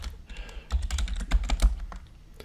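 Fingers type on a computer keyboard while entering items into an Excel list, a quick run of close, crisp key clicks with a short pause before a few final taps, no talking.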